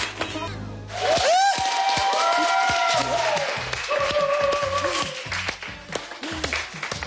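A studio audience on a Turkish daytime show claps and cheers, a loud burst of rhythmic applause with some sung or shouted vocal lines mixed in and voices over it.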